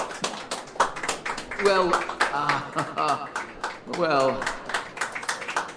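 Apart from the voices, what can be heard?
clapping, a round of applause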